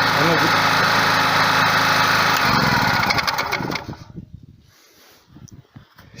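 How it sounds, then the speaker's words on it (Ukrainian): A petrol generator engine, a Werk WPG 3600, runs loud and steady, then sputters and chugs unevenly as it labors hard to a stop, ending in a few faint knocks. "коли я буду вимикати, глушити двигун, він глушиться дуже важко"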